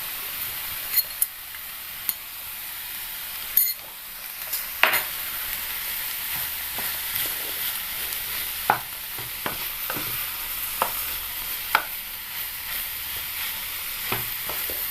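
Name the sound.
stirring green tomato thoran with shallots and salt in pan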